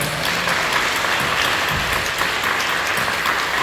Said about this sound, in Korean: 우리 축하하고 격려하며 박수 한번 주세요.